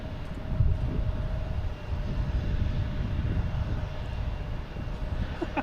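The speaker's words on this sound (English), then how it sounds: "Next to arrive is American Airlines coming in from Chicago. 737-800." American Airlines Boeing 737-800 jet arriving at Boston Logan, a steady low engine roar that holds throughout, fairly loud and continuous with no voices.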